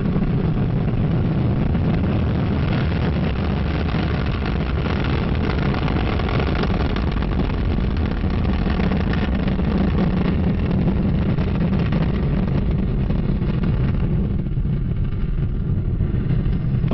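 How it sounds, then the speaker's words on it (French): An Ariane 5 rocket lifts off from French Guiana, a dense, continuous broadband roar holding at full strength for the whole stretch with no voices. "Voici toute la puissance d'Ariane 5"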